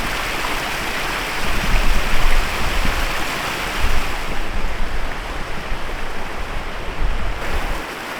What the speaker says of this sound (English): Water from the hills.